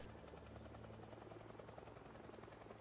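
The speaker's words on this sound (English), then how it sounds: "I'm sure you guys can all hear the helicopter. It seems that we have a helicopter event." A helicopter in a Project Zomboid helicopter event drones overhead with a steady, continuous rotor rumble, faint and distant, with no talking.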